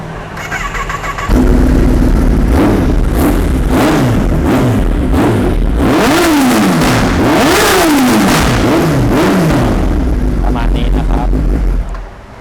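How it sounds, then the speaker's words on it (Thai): A motorcycle engine fitted with a shorty exhaust idles, then revs repeatedly in loud rising-and-falling bursts, running close by for several seconds before settling back to idle. "เดี๋ยวลองฟังเสียงเครื่องยนต์กันดูนะครับ"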